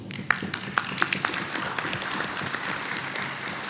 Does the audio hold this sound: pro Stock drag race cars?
no